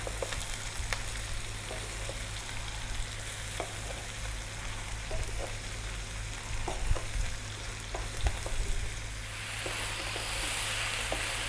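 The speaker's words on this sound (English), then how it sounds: "So we're going to throw this around, stir fry it around in there." Cabbage with garlic stir-fried in a pan makes a steady sizzle with frequent scraping and clattering stirring strokes, close and fairly loud, and no one talks over it.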